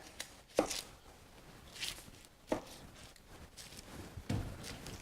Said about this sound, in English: Dicing an onion.